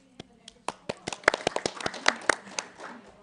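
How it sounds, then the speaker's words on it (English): Scattered audience clapping at a photography awards judging session, a sparse run of distinct individual claps building to a brief quick burst, with talk nearby. "Can I have a clap?"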